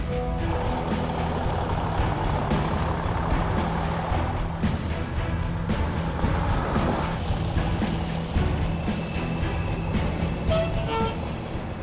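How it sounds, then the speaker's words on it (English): A new tow truck (wrecker) arriving at a tow yard: a loud, steady heavy diesel engine rumble and drone that runs throughout, with some mechanical clatter and faint beeping near the end. "I'm very excited to show everybody the new truck"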